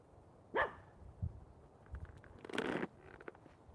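A puppy gives a couple of short, sharp barks, faint and somewhat distant, separated by quiet gaps and soft rustling at a camp.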